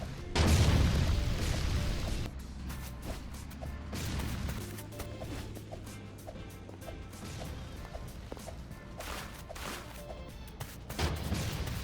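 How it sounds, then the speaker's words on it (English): Grenades bursting against a tank in the game Polybattle, a heavy crash at the start followed by a run of sharp impacts and booms at fairly regular intervals, with no talk. "constantly bombard the tank with grenades from multiple sides"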